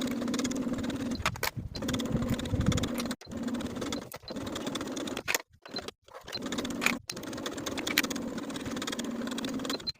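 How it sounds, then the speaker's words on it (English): A sewing machine runs in steady bursts of whirring stitches along a yoke seam on a peplum top, pausing briefly several times between runs, close and moderately quiet with no talking. "take this back to the sewing machine and sew right on top of our original yoke stitches"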